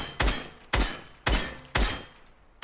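Four evenly spaced single assault rifle shots in a video game, each a sharp loud crack with a brief decaying tail, about half a second apart, with no talking.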